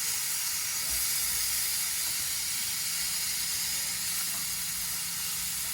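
Steaks sizzle on a Eureka SPRK camp grill outdoors, a steady close hiss of searing meat running unbroken throughout with a faint low rumble beneath.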